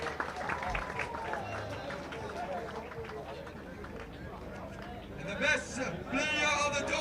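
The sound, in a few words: crowd applause for the top try scorer at a rugby sevens tournament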